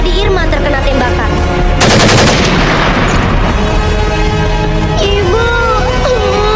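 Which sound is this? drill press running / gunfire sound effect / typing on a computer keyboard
gunfire sound effect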